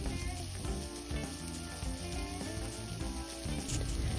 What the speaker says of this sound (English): you're going to brown your mushrooms up